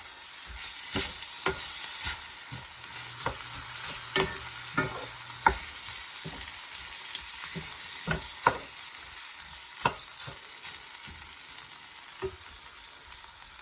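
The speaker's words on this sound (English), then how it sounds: "Just giving this a stir" Spices for an eggplant shrimp coconut curry, including Jamaican allspice, fry in a pan, a steady broadband sizzle with scattered sharp scrapes and knocks of a spoon stirring, close and moderately loud, no talking.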